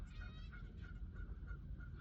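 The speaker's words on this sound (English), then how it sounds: "these geese are freaking out." Several agitated geese honk repeatedly in a regular rhythm, fairly close and clear over a low background rumble, with no talking.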